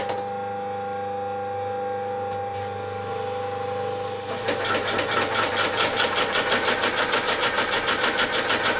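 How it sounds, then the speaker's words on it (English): A walking foot sewing machine with a clutch hums at idle, then starts stitching leather in a fast, loud, even rhythmic chatter of needle strokes that runs steadily to the end. "It's called a walking foot machine."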